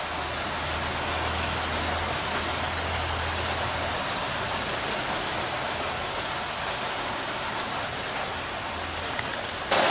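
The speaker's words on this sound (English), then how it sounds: "It's definitely the rain. Listen. Isn't that beautiful?" Steady rain pours down in a dense, even hiss that holds unbroken for ten seconds, with a faint low hum rising and fading beneath it.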